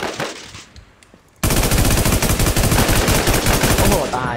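Automatic gunfire in the Infestation video game: after a quiet opening with a few faint sounds, a loud, dense burst of rapid rhythmic shots starts suddenly and continues to the end.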